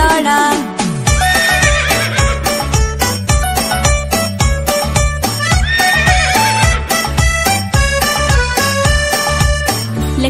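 A horse neighs and hooves clip-clop over a bouncy, loud musical backing in an animated Hindi children's song, with the rhythmic instrumental running throughout.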